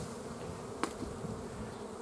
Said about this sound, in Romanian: Albina a început să miște.